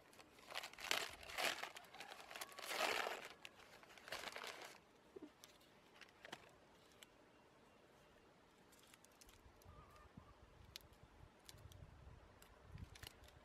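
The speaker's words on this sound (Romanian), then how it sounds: "Dar pentru asta o să le scot din pungulițe, pentru că nu are rost să le las." Tulip bulbs being taken out of small plastic bags make loud, close bursts of crinkling and rustling at first, then quieter scattered handling rustles and soft taps, with no talk.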